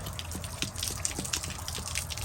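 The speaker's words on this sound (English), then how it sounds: "This tank is actually draining slowly because it's kind of stuck with the stuff that's in here." Water drains slowly from the tank of a water heater in an Arctic Fox 1150 truck camper, clogged with debris from the anode rod, making a steady gushing trickle with small irregular drips and splashes.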